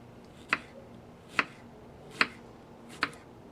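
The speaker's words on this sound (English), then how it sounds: "you're just going to go ahead and simply cut them up into little slices" A knife slices through radishes on a cutting board in four sharp, evenly spaced chops, close and crisp against a quiet background.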